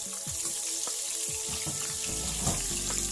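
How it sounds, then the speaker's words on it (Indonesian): Shallots sautéing in used frying oil for a green chili sambal, a close sizzling crackle with scattered pops and a steady hissing wash throughout, no talking. "Ini saya tumis bawang merahnya dulu."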